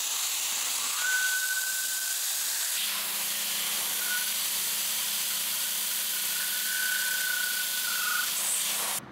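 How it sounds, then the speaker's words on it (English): An air hose blows dust from around a drill bit boring holes in a Corian solid-surface sink, a loud continuous close hiss of compressed air with faint whistling tones that lasts the whole time. "I'm also going to use an air hose to blow out the dust from around the bit"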